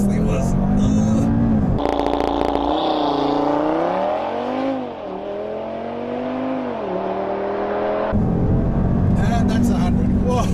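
A Stage 1 tuned Audi RS3 launches hard under launch control, its engine note climbing loudly through the gears with brief dips at each shift, and then it settles. Someone speaks excitedly over the car at the start and end.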